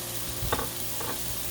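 Sausage sizzles steadily on a Blackstone griddle, a continuous close frying hiss with a couple of soft scrapes from stirring.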